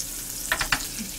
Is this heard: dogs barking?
no